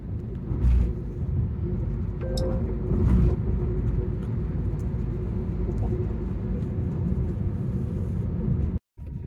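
Heavy Sunday road traffic on the way to Phoenix Mall, heard as a continuous low vehicle rumble with road noise and occasional faint clunks, steady throughout before a brief dropout near the end.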